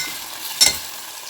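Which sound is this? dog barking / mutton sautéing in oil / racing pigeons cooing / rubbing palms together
mutton sautéing in oil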